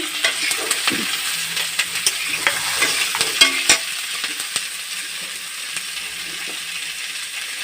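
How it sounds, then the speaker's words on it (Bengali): Chopped tomatoes go into beef masala frying in a pan, giving a steady close sizzle with repeated scrapes and clinks of a spoon stirring through the whole stretch, no voices. "টমেটো কুচি দিয়ে দিচ্ছি"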